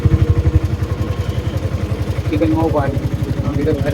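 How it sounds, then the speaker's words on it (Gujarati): A motorcycle engine putters steadily nearby amid busy road traffic noise in Udaipur, with a brief voice cutting in partway through. "બહુ જ બધી ગાડી છે, ટ્રાફિક પણ બહુ બધી છે"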